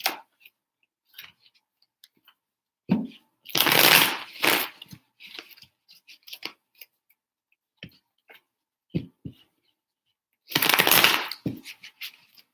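Tarot cards shuffled by hand in a quiet room, with several separate bursts of riffling and light clicking and tapping of card edges between them.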